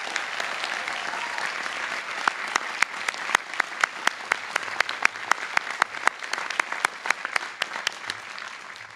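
Sustained applause rolls through the audience at an Amherst College commencement ceremony for teachers, a broad wash of many hands with distinct nearby claps popping out and tapering slightly at the end.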